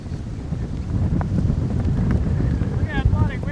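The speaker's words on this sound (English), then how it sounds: "Look how bloody windy it is." Strong wind buffets the microphone on a golf course, a steady low roaring gust throughout the short stretch, with faint voices and a brief chirp near the end.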